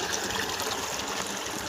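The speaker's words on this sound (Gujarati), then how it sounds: "અને એક આ કુંડી પણ સાફ કરી છે અને કુંડી ભરાવાનું ચાલુ છે." Water pours steadily from a pipe into a freshly cleaned tank in Patan, a continuous close trickling rush with no voices.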